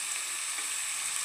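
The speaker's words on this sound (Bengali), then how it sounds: "গাজর আলু একসঙ্গে ভাজা হবে, সব কিছু একসঙ্গে ভেজে নেওয়া হবে।" Carrots, potatoes and cauliflower fry together in a pan, giving a dense, even, continuous sizzle close up with no voices.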